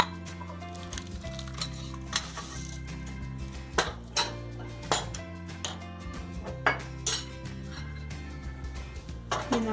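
Clinks and knocks of steel dishes and a spoon as freshly cooked horse gram curry with coconut is moved into another bowl, a scattered series of close, sharp metallic taps over soft kitchen background.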